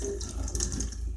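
Water poured in a continuous splashing trickle into a small container to hydrate gelatin in a home kitchen, close and moderately loud with no talk.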